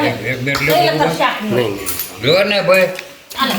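Spiced tempered rice is served onto dishes at a home meal. Light metallic clinks of a spoon against plates sound close by, partly under steady talking.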